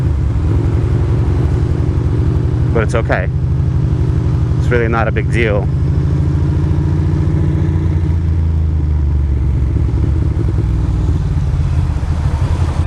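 Steady engine rumble and road noise from a Ducati Monster motorcycle riding through wet, cold January traffic, continuous and close throughout, with a rider talking over it.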